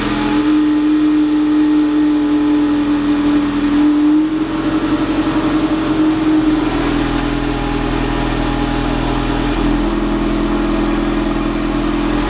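A 2015 Ford Mustang EcoBoost drives along with a steady mid-pitched engine drone and road roar, rising slightly as it accelerates, heard from inside the car with no talk.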